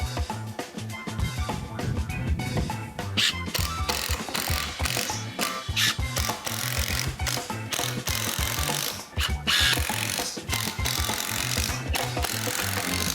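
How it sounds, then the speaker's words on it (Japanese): Screws being driven into a DIY wooden shelf with a power driver, giving a steady, loud mechanical whirring and ratcheting that runs continuously throughout with brief pauses. "裏側は見えなくなるんで、ビス止めしたいと思います。"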